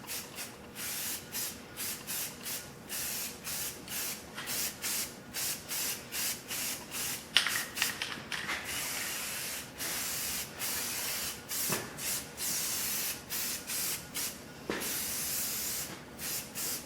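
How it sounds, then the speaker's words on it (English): Red oxide primer sprayed from a can onto a step plate of a 1959 GMC Fleetside truck, many short hissing bursts in a quick repeating rhythm, close and moderately loud. "I'm just going to throw a quick coat of red oxide on here"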